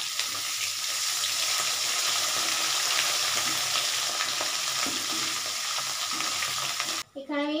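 Bay leaf and dried red chilli fry in hot oil and get stirred, a loud continuous sizzle with light scraping close by, cutting off abruptly near the end.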